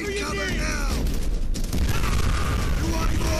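Mortar blasts in Call of Duty: World at War come as heavy booms and rumbling bursts, loud and close, with a dense crackle of combat noise between the hits.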